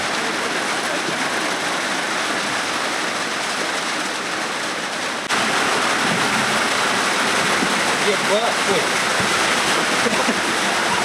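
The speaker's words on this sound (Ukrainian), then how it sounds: "дощ нас не відпускає." Heavy downpour drenching hikers on a descent of Mount Rokyta, a steady loud hiss of rain that swells louder midway through and continues unbroken to the end.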